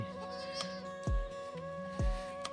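Goats bleat continuously in a steady, nasal drone inside a goat pen, broken by two sharp thumps along the way.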